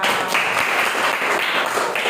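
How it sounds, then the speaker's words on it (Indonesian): A roomful of people applauds during a talk on managing emotions, producing a short, steady wash of clapping at even loudness. "tepuk tangan semuanya"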